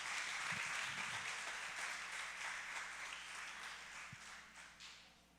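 Soft, distant applause from a church congregation, a continuous wash of clapping that slowly fades, with no voices over it.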